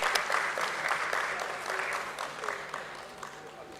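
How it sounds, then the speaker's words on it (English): Steady applause from an audience at a stock exchange listing ceremony for DOMS Industries at BSE, continuous clapping that slowly tapers off with no voices over it. "Let's have a huge round of applause,"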